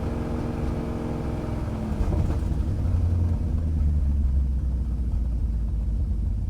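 A BMW car engine, with a new fuel pump and O2 sensors removed, runs with a steady deep close rumble that swells slightly after a couple of seconds and then holds even.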